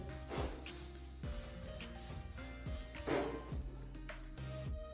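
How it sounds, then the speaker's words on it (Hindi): A balloon rubbed to build static electricity for a classroom-style experiment gives soft squeaky rubbing strokes in several bursts with brief pauses, close and fairly quiet, with no talking. "तो पहले हम एक गुब्बारे को रब करते हैं सिर्फ।"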